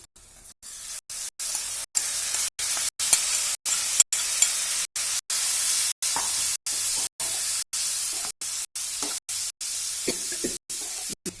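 Bilimbi sizzling in a hot pan with green chilli and turmeric, a steady bright hiss and crackle of frying that carries on with no talk, only briefly interrupted by short gaps.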